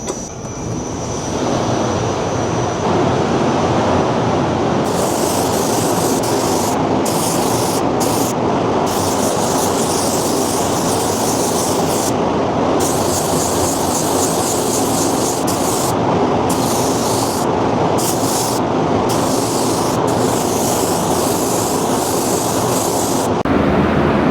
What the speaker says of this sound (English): I'm gonna flush this out, get the color going, throw a tip in, and start spraying.